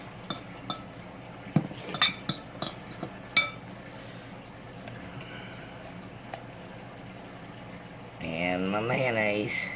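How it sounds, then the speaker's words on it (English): Ham salad sandwich spread is stirred in a bowl, with a series of sharp utensil clinks and scrapes against the bowl, spaced irregularly, followed by quieter handling and a voice talking near the end. "Give this a little stir up right here."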